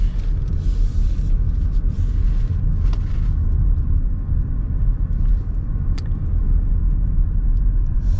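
A 2022 Toyota Avalon XLE with a V6 engine accelerates in sport mode out of a roundabout, giving a steady, close, deep engine rumble from inside the cabin with no talk.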